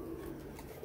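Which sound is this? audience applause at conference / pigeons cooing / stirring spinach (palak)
pigeons cooing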